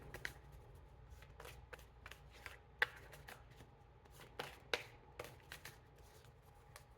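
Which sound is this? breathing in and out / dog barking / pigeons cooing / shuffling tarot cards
shuffling tarot cards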